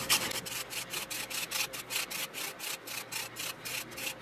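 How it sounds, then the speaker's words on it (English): A whole lemon is zested with steady, rhythmic scraping strokes, roughly a dozen passes in quick succession. The strokes are close and crisp, with no talking. "I'm going to zest in 1 full lemon."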